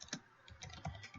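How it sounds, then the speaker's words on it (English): Keys tapped on a computer keyboard while entering search keywords for medical coding, a quick irregular run of light clicks close by, no talking. "I'm just typing in keywords to help search for stuff"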